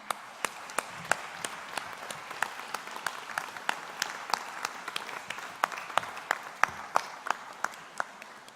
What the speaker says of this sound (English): Now give your loved ones a round of applause.